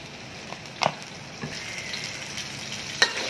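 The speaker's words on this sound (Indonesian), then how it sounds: "Sekarang kita tumis pakai minyak." Ingredients stir-fried in a little oil after their water has cooked off, giving a soft steady sizzle with a few scraping stirs and clacks of a utensil against the pan.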